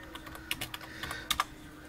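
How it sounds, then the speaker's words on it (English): Typing on a computer keyboard while playing RuneScape, a short run of light, quick key clicks in small clusters, close but quiet. "Yeah, type this."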